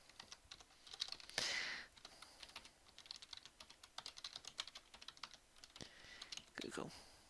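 Fingers tap on a computer keyboard in quick, irregular bursts of light clicks, fairly quiet and close, with brief pauses between runs of keystrokes.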